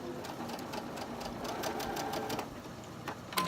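A sewing machine stitches fabric in a rapid run of even, clattering needle strokes, close and moderately loud, with a short pause near the end.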